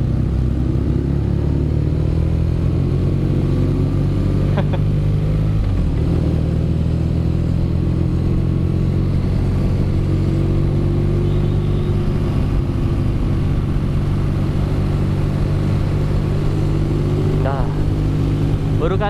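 BMW R nineT motorcycle riding along a road, its engine a loud, steady close rumble throughout with a few gentle swells in revs, heard under the rider's talking.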